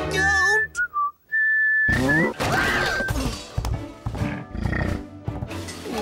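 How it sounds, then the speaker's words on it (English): A cartoon character whistles a short cowboy tune in clear, sliding notes, followed by a noisy stretch of crashes and thumps with voices and music. "Makes me feel like whistling another cowboy tune!"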